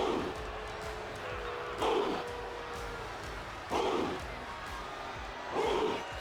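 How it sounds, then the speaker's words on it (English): A large arena crowd in the WWE 2K25 wrestling video game at an NXT event roars and murmurs continuously, swelling in three rhythmic surges like a chant, with a voice speaking over it. "Listen to this crowd, man."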